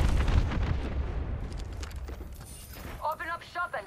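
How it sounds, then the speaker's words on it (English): Missiles fire and explode in the video game Apex Legends, a loud booming blast that rumbles and fades over a couple of seconds, followed by a voice speaking near the end. "Class 3, firing missiles."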